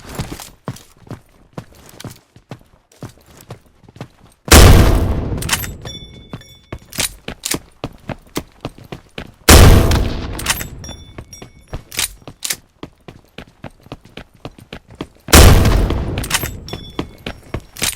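Grenade launcher in the PUBG Metro Royale video game, three heavy booming blasts spaced several seconds apart over a busy bed of clicks, footsteps and rattling gear.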